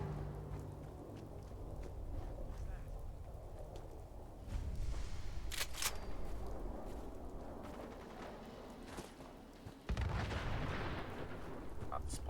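Booming explosions and crackling blasts from the game Fallout 4, with heavy rumbling bursts around the middle and near the end over a constant noisy background.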